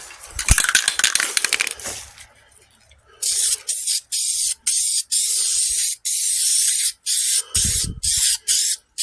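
A can of VHT spray paint sprays in short and long bursts with a sharp hiss, each burst stopping cleanly. Brief rattling and clicking handling noises come first.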